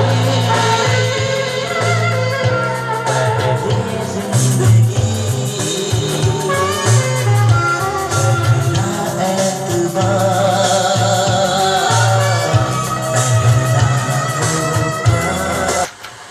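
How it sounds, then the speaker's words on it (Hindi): A brand-new car stereo cassette player plays a cassette with continuous full-band music, steady and loud with strong bass, running alone and cutting off abruptly near the end. "चलिए कैसेट लगाते हैं, इसकी आवाज़ सुनाते हैं।"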